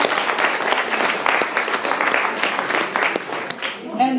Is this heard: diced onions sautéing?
no